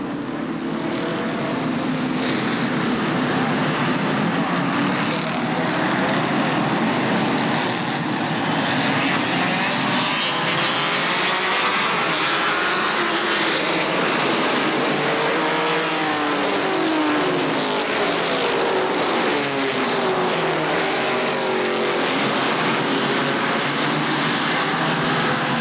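ARCA SuperCars stock cars come around Kil Kare Speedway to complete a lap, a loud, dense roar of many engines sweeping past and sustained throughout without a break.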